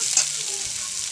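Potatoes and soya chunks frying in a pan, giving a bright, continuous hiss of sizzling oil with a slight scrape from stirring, steady and close.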